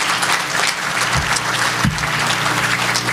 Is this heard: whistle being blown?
no